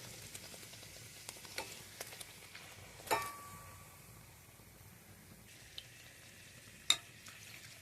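Small, thin luchi fry in hot oil in a pan greased with ghee, giving a quiet, steady sizzle with a few sharp pops and crackles, heard alone without speech.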